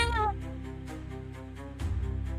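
A person imitates a cat with a short, close meow at the start, followed by quieter voiced sounds and another brief vocal burst near the end.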